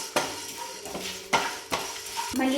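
Quiet dry scraping and stirring of spices and chillies roasting in a pan on low flame, with a few sharp spoon clinks against the metal and faint sizzling.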